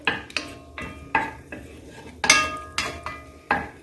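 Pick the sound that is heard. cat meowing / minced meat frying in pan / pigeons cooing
minced meat frying in pan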